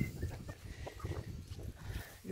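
A young cockerel of the Pékin caillouté bantam breed, from a first hatching, clucks and calls softly near a henhouse built from pallets, in short repeated bursts at moderate distance.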